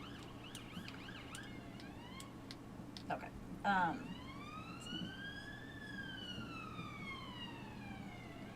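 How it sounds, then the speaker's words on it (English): Ambulance siren passing outside an open window, its wailing tone rising and falling at moderate distance beneath a quiet room, with a brief spoken word partway through. "Oh, ambulance, sorry guys. Windows open."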